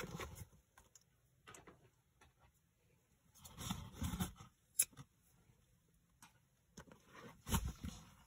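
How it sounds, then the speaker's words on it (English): Scissors snip through crochet yarn while finishing a small baby alien keychain. Two quick cutting bursts sound close and crisp, with a sharp click between them and quiet handling noise around them. "then we are going to cut our yarn"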